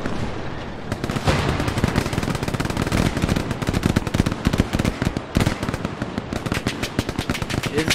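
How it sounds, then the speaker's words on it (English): Dense bursts of automatic gunfire crack through a video game battle, rapid shots stacking into continuous volleys, loud and close, with no talking. "I just hear the shots."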